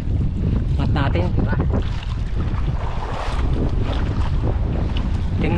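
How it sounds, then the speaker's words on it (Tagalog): Loud, constant wind roaring across the microphone on open water at night off Fortune Island, with a fishing boat's hull and waves churning beneath it. "sobra ang hangin"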